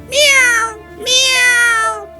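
A male stage comedian imitates a cat with his voice, giving two drawn-out, close, loud meows in quick succession.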